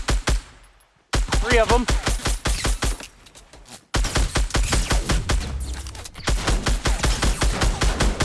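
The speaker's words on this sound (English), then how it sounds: "They were shooting to our right, by the way." Rapid bursts of gunfire in the battle royale game Fortnite, duo against squads, crack loudly and repeatedly through most of the stretch, pausing only briefly before resuming, with players talking over the shots.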